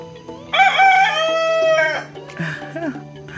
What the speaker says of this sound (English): This rooster though.